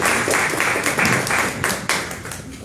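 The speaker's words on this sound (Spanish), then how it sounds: "Un aplauso para ellos." Brief burst of close audience applause at a magazine presentation, dense clapping that thins toward the end.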